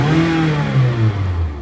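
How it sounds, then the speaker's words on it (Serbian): A car engine revs briefly and loudly up close, its tone settling and falling away over a second and a half. "Motor. Ajde čujem kako se čuje."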